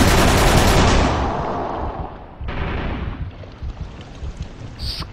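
Thompson submachine gun fire in a Call of Cthulhu video game: a loud, dense burst opening the clip, then a second rattling burst and scattered shots fading toward the end.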